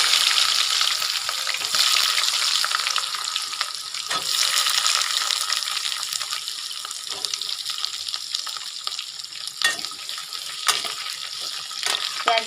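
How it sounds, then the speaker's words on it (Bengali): Chopped onions fry in oil with whole garam masala and cumin for a chicken kosha, giving a dense, continuous hiss close up, with occasional stirring scrapes and no speech. "এর মধ্যে দিয়ে দিচ্ছি আমি পেঁয়াজ কুচি।"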